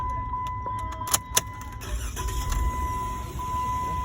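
A 2014 Jeep Wrangler with the 3.6 engine is restarted: a few clicks and clunks, then the engine cranks and catches into a low rumbling idle, with a steady electronic tone in the cabin.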